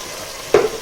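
Tomatoes dropped into a pan of onions already frying, giving one loud sizzling burst that fades over a fraction of a second against a quiet background.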